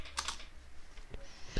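Keystrokes on a computer keyboard while working in a sprite-editing tool, a few quick clustered taps near the start and scattered single presses later, close and fairly faint in a quiet room.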